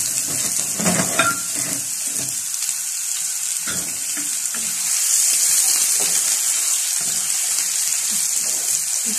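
Thinly sliced onions fry in hot oil in a pan for a bourek filling, giving a steady close sizzle and hiss with scattered crackles and a few stirring knocks, no voices.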